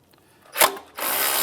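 A ratchet with a 10mm socket working a strut bracket bolt on a 2007-2013 Acura MDX, giving a short burst of clicking followed by a steady, sustained rasping ratchet run, close and clear with no talk.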